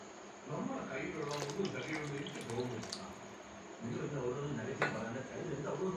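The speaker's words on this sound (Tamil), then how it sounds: "இப்போ வந்து இதில் வந்து புளி தண்ணி ஊற்றிக்கலாம்" Tamarind water pours and splashes into a pan, with quiet clinks of cookware and a faint background hum.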